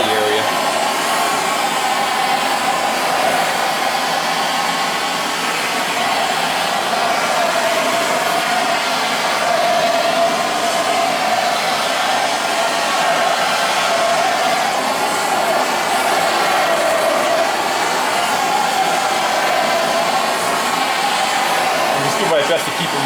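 A heat tool blows steadily on the painted body of a 1959 VW single cab pickup, a constant loud whooshing hum with a slight wavering pitch that continues without pause throughout.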